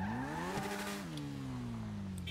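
A video-game car drives up, its engine revving and pitch rising then settling into a steady drone, loud and close, without talk.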